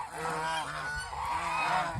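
A large duck of over nine kilograms on a river gives loud, nasal, honking calls one after another, close and clear with no talking.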